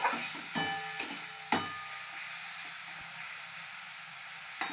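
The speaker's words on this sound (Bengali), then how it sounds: "এই মশলাটাকে ভাজবো। গ্যাসটা মিডিয়াম করে রাখবো।" A spice mixture frying in a pan over a medium gas flame for an eggplant bharta, a soft steady sizzle with a few sharp knocks and clacks of a utensil, one near the end.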